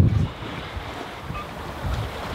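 Small choppy sea waves wash around a sailboat under gusty wind, with soft low surges and steady wind noise on the microphone.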